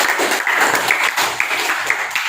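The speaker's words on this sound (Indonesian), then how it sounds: "Kasih aplaus buat kelompok B." Schoolchildren in a classroom applaud a presenting group, a dense burst of hand clapping that runs steadily for a couple of seconds.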